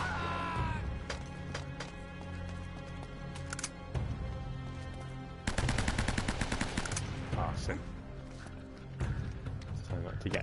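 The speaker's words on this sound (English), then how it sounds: "I can hear shooting, but I cannot see shooting." Gunfire from the video game Uncharted: Drake's Fortune, a steady run of rapid shots with a denser burst of automatic fire midway, under game music and talk.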